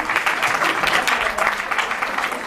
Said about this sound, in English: Let's give the moderator a round of applause